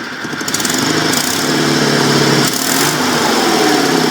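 Sears SS16 garden tractor, its small engine cold after a start and stall, revving up to a steady buzzing drone with a short dip in speed before climbing again, close and loud.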